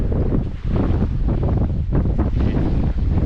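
Strong wind on a beach on Fraser Island buffets the microphone in a continuous roar, with a hint of surf underneath and no voices.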